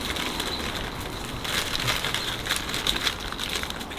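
A cilantro seed head being stuffed into a bag gives close, steady crinkling and crunching, growing a little busier in the second half, with no voices.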